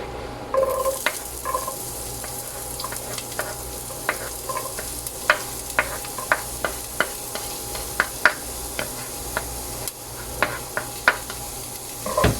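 Onion frying in chorizo oil in a pan, a steady close sizzle broken by regular scraping stirs, with no talking.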